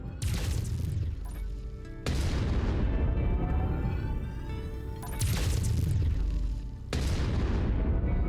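Heavy mech weapons firing at a cockpit in MechWarrior 5 Mercenaries, with loud booming volleys and sustained blasts in repeated waves, dense rumbling explosions close up.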